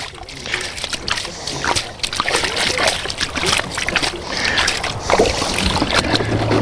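Water splashing and sloshing as a plastic mixing tub is rinsed out while prospecting sand for gold, with steady, busy splashes continuing throughout at close range and no talking.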